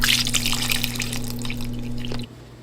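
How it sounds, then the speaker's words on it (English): Beef broth pouring steadily into a pot, a close liquid splash and trickle over a low background hum, stopping after about two seconds. "And then we're also going to add in about 4 cups of beef broth."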